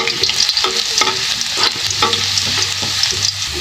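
Garlic sautéing in hot oil in a pan for Filipino bitter melon stir-fry, a loud close sizzle broken by repeated metallic spatula scrapes and stirring clatter, with a low hum underneath and no voices.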